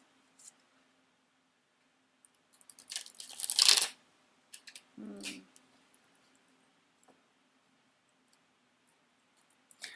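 A tarot card deck is shuffled twice in a quiet room during a reading. Two short bursts of riffling and flapping cards, the first longer and louder, are separated by stillness and a few faint clicks.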